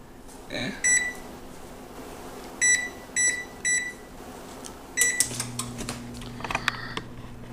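An oven's electronic control panel beeps as preheat to 350 is set, with five or six short, clear tones in uneven succession, followed by a steady hum as the oven starts.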